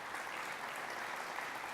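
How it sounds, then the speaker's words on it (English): An audience at an agriculture summit panel applauds with steady, dense clapping that holds at an even level from start to finish, with no talking. "Let's give them a round of applause to make them feel a little more welcome"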